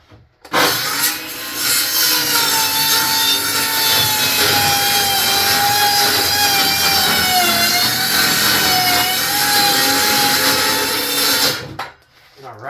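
Craftsman 20-volt drill driving a large hole saw through a wooden panel, a loud continuous whining grind with a steady pitch that holds for about eleven seconds, then cuts off abruptly.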